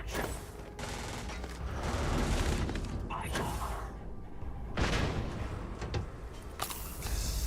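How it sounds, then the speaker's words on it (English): Gunfire in Starfield: bursts of rapid automatic shots and volleys crackle through a busy combat soundscape, loud and near, with brief gaps between bursts and mechanical clatter underneath. "Who is shooting me?"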